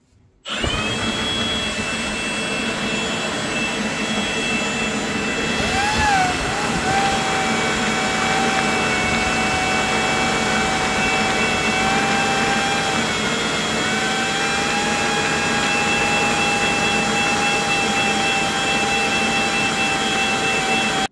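A leaf blower switches on and runs through a long gutter cleaning pole, a loud steady whooshing roar with a high whine that dips in pitch briefly and then holds constant, no talk.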